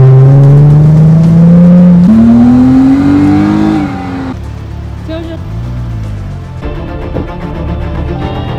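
A car driving fast and accelerating hard, its engine tone climbing through the gears with loud revving up close and the pitch rising and falling; a voice can be heard faintly at moments.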